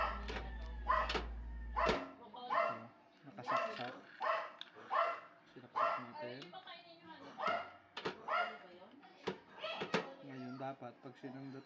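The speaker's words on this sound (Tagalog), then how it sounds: "At ang ingay ng aso." A dog barks repeatedly in sharp, close bursts, roughly one every second, while a person talks in Tagalog at the same time during a microwave repair.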